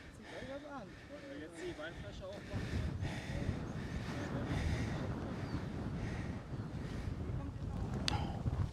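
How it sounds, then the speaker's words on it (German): Strong wind buffets the microphone on a mountain hiking trail through pines above the sea on Mallorca, a rough, blustery roar that swells after a voice speaks briefly at the start. "Oh, jetzt ist aber kräftiger Wind hier da."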